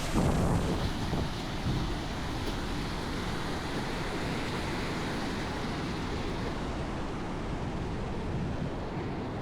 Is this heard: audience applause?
no